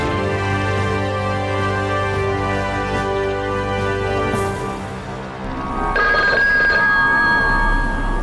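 A telephone rings with a steady, continuous bell tone, loud and close, shifting partway through into a brighter electronic ring.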